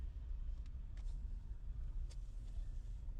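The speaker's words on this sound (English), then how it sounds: "And this is the traffic, so we are sitting ducks." Steady low road rumble of car traffic heard while waiting stuck in a queue on the way to a work site, continuous and moderately close, with faint brief higher noises above it and no talk.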